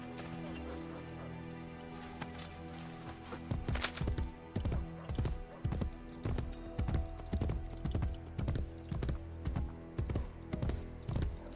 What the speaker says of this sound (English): Use the horse for this.